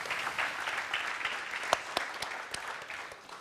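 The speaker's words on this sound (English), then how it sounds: "I think we can give them a big applause here for Gateway." Applause from a crypto conference audience, a continuous wash of many hands clapping with a few sharp, louder claps near the front, fading slightly at the end.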